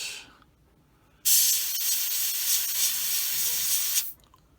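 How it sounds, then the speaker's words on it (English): An airbrush sprays paint onto a 1/48 scale Eduard Bf 109E-3 model aircraft, a steady close hiss that starts abruptly, runs for about three seconds and cuts off cleanly. "I don't want to overspray it too much."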